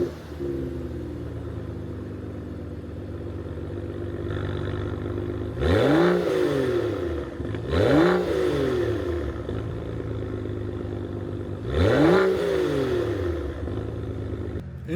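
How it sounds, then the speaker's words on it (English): A BMW 335i with the N55 engine, started warm, settles into a steady idle and then revs sharply three times, each rev a loud rising surge that quickly drops back to idle. "I will do a warm start right now"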